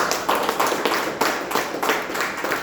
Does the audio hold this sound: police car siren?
no